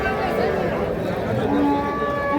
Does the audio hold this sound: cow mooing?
yes